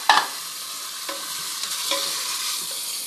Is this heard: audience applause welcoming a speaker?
no